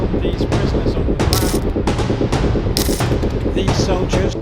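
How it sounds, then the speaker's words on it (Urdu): Heavy gunfire in war-torn Khartoum, Sudan: rapid machine-gun bursts and sharp shots crack repeatedly in irregular volleys, loud and close, with a faint voice underneath. "لیکن آج توپوں کی آواز گونجتی ہے"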